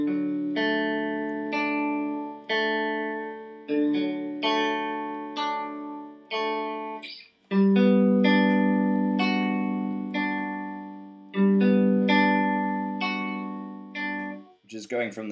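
Electric guitar playing a simplified accented pattern from the worship song Holy Spirit, with repeated picked notes and chords that each ring and decay. Strong accents come in a steady rhythm, and a few sustained louder chords stand out. The guitar is clear and solo.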